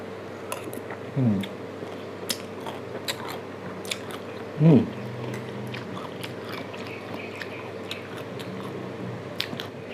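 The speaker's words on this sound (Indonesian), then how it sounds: "Sekarang kita cobain kedongdong." Two crisp bites into kedondong fruit, an Indonesian Betawi street snack, each a short loud close crunch, with faint chewing clicks between them and no talking.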